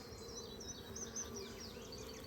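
Honey bees hum around an open beehive, a soft continuous drone with individual bees zipping past close by, quiet and steady with no voices.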